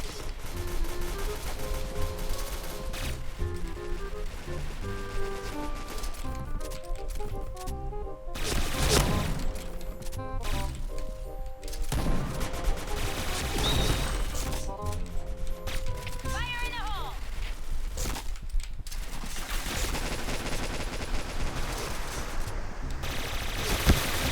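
Rapid gunfire from the online shooter Point Blank during a deathmatch with twin pistols, dense bursts of shots and impacts layered over game music and effects, with someone talking over it throughout.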